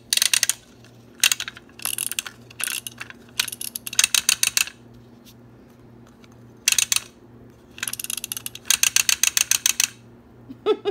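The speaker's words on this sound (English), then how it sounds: "It's chattering teeth, and you just wind it up on the side." A wind-up chattering teeth toy gives bursts of dry, rapid ratcheting clicks, close and distinct, separated by short quiet pauses as it is wound on the side.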